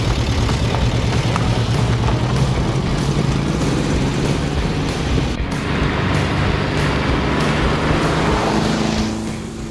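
A Volkswagen Beetle with a 1600cc engine drives along, its steady engine drone and road rumble loud and continuous throughout, fading slightly at the very end.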